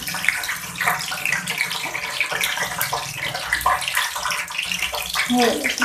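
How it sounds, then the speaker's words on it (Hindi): Fish pieces for ginger fish fry in hot ghee, giving a continuous, close, bubbling sizzle that sounds almost like running water, with a voice briefly audible beneath it. "अब हम इसमें डालेंगे अपनी फिश को करेंगे फ्राई।"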